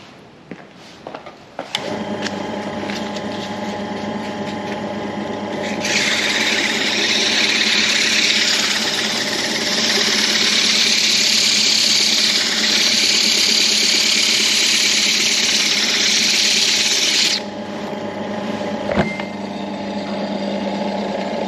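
A power tool sands a part for a Sopwith Camel torpedo model, a steady loud whirring grind running for about twelve seconds between quieter motor hum at start and end.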